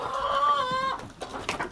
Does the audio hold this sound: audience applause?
no